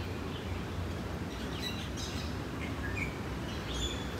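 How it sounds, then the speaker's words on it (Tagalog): Birds in the Hong Kong Park bird sanctuary give several faint, scattered high chirps and tweets over a steady wash of outdoor background noise. "bird sanctuary pala to, kaya pala maraming ano, tumatwit-twit na mga ibon"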